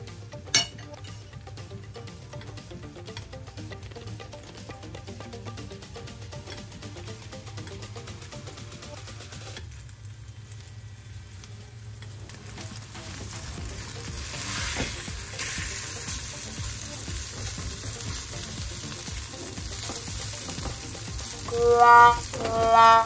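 Sandwich filling fries in a pan over medium heat, a steady low sizzle that grows slightly louder, with faint clinks of a utensil near the end.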